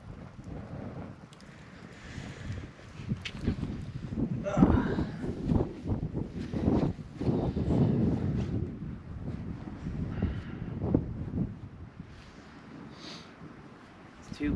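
Gusty wind buffets the microphone in low rumbling bursts at a campsite in Cornwall, with people talking over it throughout.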